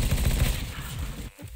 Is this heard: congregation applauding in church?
no